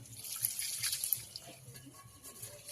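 Water trickles and drips into a bowl of jaggery and sugar while pitha dough is being prepared, a light uneven splashing with small drops, fairly close and fairly quiet.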